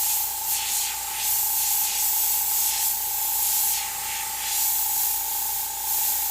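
An airbrush sprays paint in a steady, close hiss over freehand pumpkin artwork with edge lighting and tooth highlights, the airflow swelling and easing in short passes with no talking.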